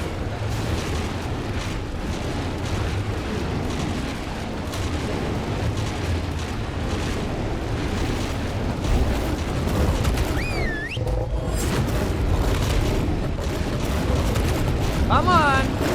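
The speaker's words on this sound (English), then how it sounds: "About to hop off and just start shooting." Continuous booming gunfire and explosions from the video game Ark fill the mix, dense and rumbling, with a few sharp effect sounds over the top and a voice talking now and then.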